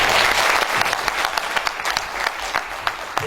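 Applause from delegates at a party congress, a dense burst of many hands clapping that thins into scattered claps toward the end, close and loud in a large hall.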